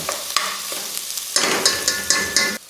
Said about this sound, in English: So in goes the corned beef. And let's break it up.